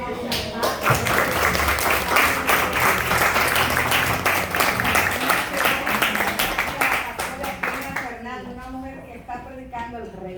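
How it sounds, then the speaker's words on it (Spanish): A church congregation at a national congress claps for the pastor, a dense, sustained burst of applause that lasts about eight seconds before thinning out as a voice comes in. "Vamos a dar un aplauso al Padre."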